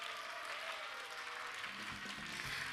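Faint audience applause at an elementary school art festival, a soft steady patter of clapping heard at a distance, sustained across the whole moment.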